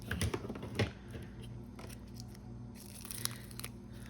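Scissors snip open a package from a thrift haul holding blue lace, a few quick close cuts and crinkles at the start followed by quieter rustling handling.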